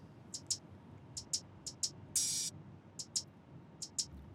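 Unprocessed hi-hats from a mix, crisp close ticks falling mostly in quick pairs with a brief sustained open hiss in the middle, set over a faint low backing bed.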